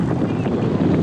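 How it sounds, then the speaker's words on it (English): Strong hurricane wind on a beach during Hurricane Dorian, a loud, steady buffeting roar across the microphone. "This one's right above our head. Feel the strong wind from it."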